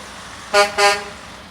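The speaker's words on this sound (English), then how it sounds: "we've got a 2014 Thompson dump truck. That's a Freightliner." A 2014 Freightliner dump truck gives two short, loud horn toots at a roadside event, alone over a quiet background.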